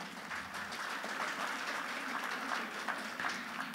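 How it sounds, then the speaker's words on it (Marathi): A school audience at an annual gathering of third- to sixth-grade pupils claps in a steady, soft stream heard from a distance, with no voices over it. "त्यांच्यासाठी आपण टाळ्या वाजवूया"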